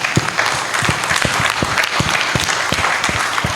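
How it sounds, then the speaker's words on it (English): Loud audience applause at a seafarers' conference in Goa honouring a newly elevated vice president, with dense clapping and deep rhythmic thumps running through it, likely stamping or drumming. "we should give a thumping applause to someone here"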